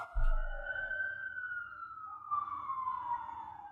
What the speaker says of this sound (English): can you hear the sirens behind me?